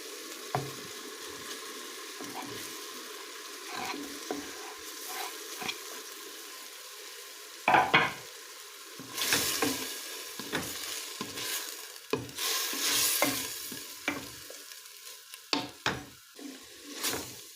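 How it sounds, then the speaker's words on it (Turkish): Onions sizzle steadily in a hot pan while a utensil occasionally scrapes and stirs, with a few louder clattering knocks toward the end. "soğanlarımız da yeteri kadar kavruldu"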